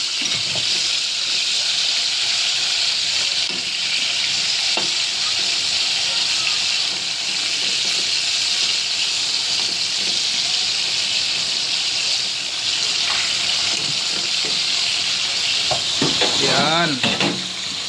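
Steady loud sizzling of milkfish frying in bubbling oil, continuous crackle throughout, with a few clinks of a utensil near the end.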